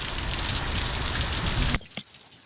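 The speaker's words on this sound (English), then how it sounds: "With this much amount of rain?" Heavy thunderstorm rain pours in Needles, California, a dense, loud, steady roar of water on surfaces that cuts off sharply near the end, leaving a quieter tail.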